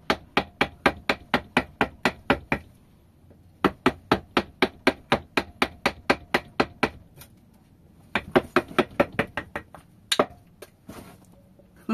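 Sharp, even hammer blows ring out close by while wood is carved into a mule figure, coming in three quick rhythmic runs separated by brief pauses, with no talking.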